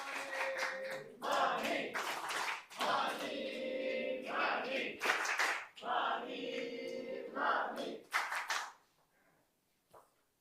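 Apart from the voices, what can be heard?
audience clapping and cheering at a meeting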